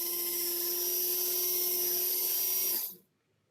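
A rotary tool with a 2 mm cup bur rounds the ends of rose gold huggie hoop earrings, a steady high-pitched whine that runs evenly for nearly three seconds and then cuts off into quiet.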